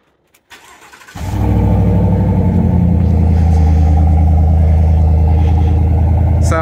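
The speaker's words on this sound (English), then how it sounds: "Let's do that cold start real quick just so you can hear that." A truck's 6.2 V8 cold start: a short crank, then the engine catches and settles into a loud, steady, rough idle heard up close.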